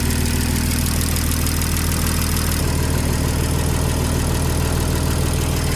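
BMW B58 gen1 inline-six idling steadily after an MHD flex fuel kit install, a continuous close, loud engine drone with a low hum and no speech.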